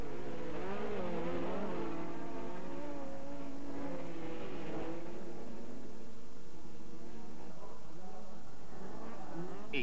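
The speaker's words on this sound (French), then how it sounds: "Revenons au pick-up et à ses incroyables départs." Off-road pickup trucks racing at Riverside, California, engines roaring and revving at a distance under a continuous wash of crowd and track noise, with a voice talking over it.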